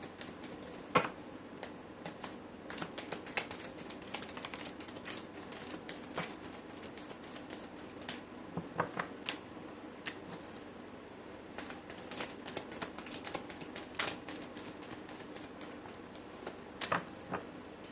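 Tarot cards shuffle by hand in a quiet room, making soft, irregular flicks and riffles that come in scattered bursts over a faint background.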